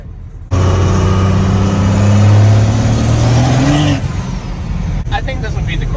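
A 12V Cummins diesel truck, said to make around 900 horsepower, revs loudly and close by. The engine roars steadily with rising pitch and then drops off toward the end, while people talk over it.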